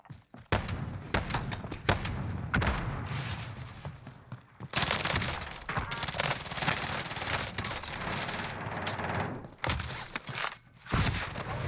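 Rapid bursts of automatic gunfire from the battle royale shooter Call of Duty: Warzone, sharp repeated shots and thuds crowding the whole stretch with a couple of short pauses, loud and close.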